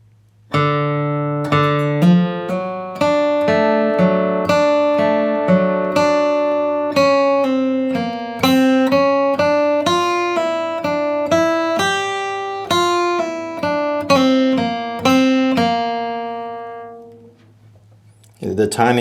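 Measures 5 through 8 of Wabash Cannonball ring out on a flatpicked acoustic guitar, a steady stream of crisp picked bluegrass notes played close and alone, fading out at the end.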